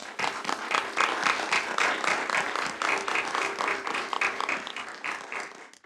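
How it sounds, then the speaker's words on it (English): Applause from an audience at a school board of trustees meeting, a steady spread of overlapping claps holding at moderate level for several seconds before easing off slightly at the end. "Can we give them a round of applause?"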